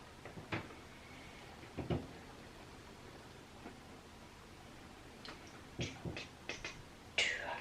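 A cardboard advent calendar door is pried open, with scattered small clicks, taps and light cardboard rustles spread across several seconds, faint and close in a quiet room, with one brighter tearing pop near the end.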